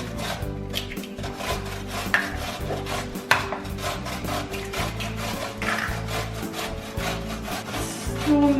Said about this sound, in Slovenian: Potem naribam 2 jajci.